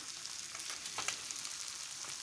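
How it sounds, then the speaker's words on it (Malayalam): Sardines frying in hot oil, a soft continuous sizzle with a few brief crackling bursts, fairly quiet and close, no voices. "ഈ മത്തി എണ്ണയിലേക്ക് പെറുക്കിയിടുമ്പോഴത്തെ ഒരു സൗണ്ട് ഉണ്ടല്ലോ"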